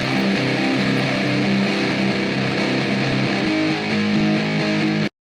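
Heavily distorted electric guitar through an amplifier miked with two SM57s, a dense gritty wall of chugging chords, loud and close, that stops abruptly at the end.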